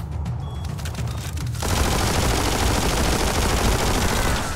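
Loud, dense gunfire from the video game Biomutant: a lighter patter at first, then a sustained, rapid barrage of shots that continues steadily to the end with no voices.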